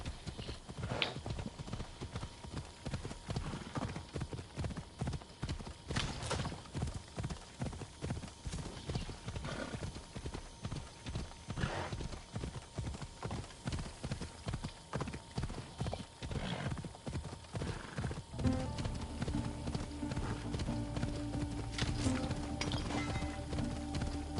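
A fast horse galloping in a video game, a steady rapid clip-clop of hooves running on and on, with a brief whinny and a change of background sound near the end.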